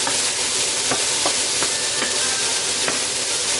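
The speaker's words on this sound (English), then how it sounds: "we're going to saute these together for another few minutes" Ham and mushrooms sautéing over medium-high heat for mini quiches, a continuous close sizzle broken by regular scraping stirs about every half second.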